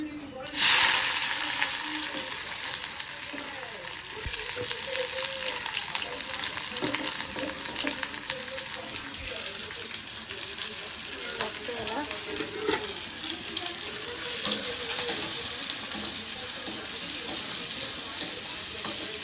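Chopped onion drops into hot oil with cumin for a Marathi-style potato bhaji, setting off a loud, steady sizzle and frying hiss that runs throughout, with occasional stirring scrapes and someone speaking at times over it.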